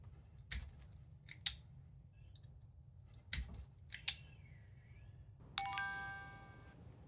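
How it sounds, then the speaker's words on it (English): Several sharp, distinct scissor snips cut through a headlight wiring plug on a Lexus LX470 in a quiet room, followed by a bright ringing metallic chime. "just snip off the existing plug that came with the headlights"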